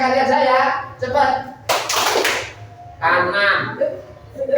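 Hand claps ring out during a classroom clapping game, a sharp burst of several quick claps set between stretches of talking, with voices before and after.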